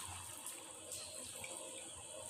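Water is poured into a pot of mutton karahi cooking with garlic-ginger paste, a steady soft splashing gush that continues for a couple of seconds, faint and close.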